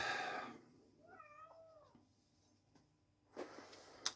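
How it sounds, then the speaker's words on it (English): A cat meows several times in the background of a quiet room, the calls rising and falling over about a second, followed by faint knocks and a couple of sharper taps. "I hope you forgive the noisy cat in the background."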